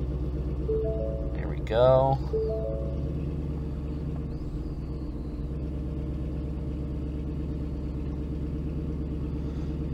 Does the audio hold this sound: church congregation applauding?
no